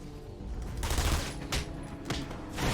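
Video game gunfire in Batman: Return to Arkham comes as a few rough bursts of shots over a continuous noisy background, moderately loud with no talk.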